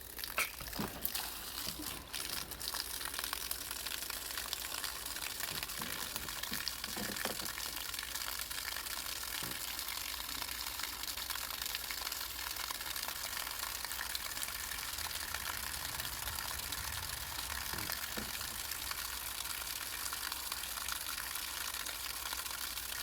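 Water rushes and trickles through a Rusco 100-mesh, 150-micron spin-down sediment filter as it is flushed, a steady close hiss of flowing liquid with a few brief knocks near the start, heard alone.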